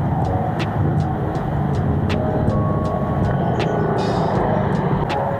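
Steady road traffic rumbles around a cyclist riding toward Bagong Bayan and Barangay Sukat in Muntinlupa, a continuous loud wash of engines and tires with a few brief metallic ticks and clicks.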